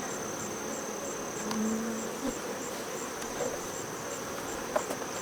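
Honey bees swarm around an Apimaye hive fitted with sugar-water feeders, giving a faint, steady buzzing hum that runs throughout with a few brief louder passes close by.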